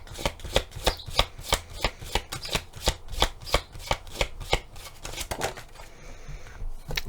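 Tarot cards being shuffled by hand, a crisp regular run of riffling flicks and snaps, close and fairly quiet, ending in softer rustling.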